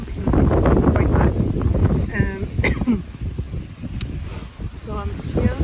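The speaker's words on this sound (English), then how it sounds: "Today I have the worst wind ever." Strong wind in the Mourne Mountains buffets the microphone with heavy, continuous low rumbling, and a person talks over it.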